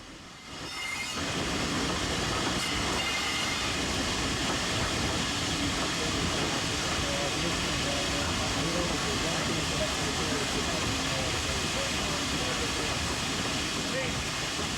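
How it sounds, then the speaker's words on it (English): A GWR Hall Class steam locomotive and train roll into a station with a dense, steady rumble of wheels and carriages that starts abruptly and holds loud throughout, with a voice speaking over it. "while a Hall Class 460 rolls into the station"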